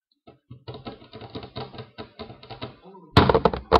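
Rapid keystrokes on a keyboard tap out in quick uneven bursts, close and fairly clear, ending with a louder clatter of handling noise.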